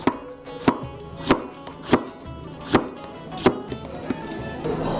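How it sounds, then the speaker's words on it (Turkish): A knife chops through tomatoes on a board, about eight crisp, evenly spaced cuts landing roughly one every half second, close up and without talk. "Yuvarlak yuvarlak doğrayacağız."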